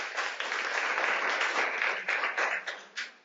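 Audience applause at a breakfast talk on entrepreneurship in the audiovisual industry: steady clapping from a seated crowd that swells and then tapers in the last second, with no speech over it.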